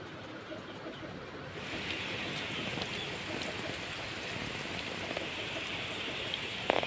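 Steady rain pouring over a paddy field, a dense, even hiss of drops that swells in after a quieter start and holds unbroken, with no voices.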